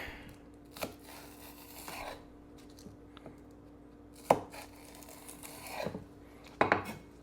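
A knife chops green onions on a cutting board, giving sparse sharp thuds: a few isolated cuts at first, then clearer strikes later on, close up and quiet, with no talking.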